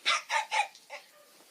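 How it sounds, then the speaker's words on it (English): A small dog barking, three quick sharp yaps in a row followed by a fourth softer one, close and clear with nothing else around. "So it's a bark of a small dog."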